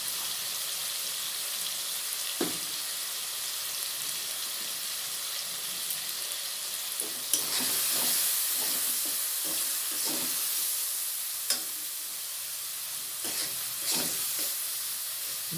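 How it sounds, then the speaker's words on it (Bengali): Tomatoes cook with salt and turmeric for a small potato curry, giving a soft, steady sizzle with scattered stirring scrapes, moderately close and fairly quiet. "ভালো করে টমেটোগুলোকে একটু কষিয়ে নেব।"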